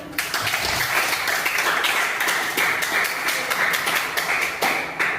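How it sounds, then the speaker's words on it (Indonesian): Students in a classroom clap for a classmate, a brisk, bright burst of many hands clapping that starts suddenly and keeps a lively, slightly uneven rhythm throughout. "Beri tepuk tangan untuk teman."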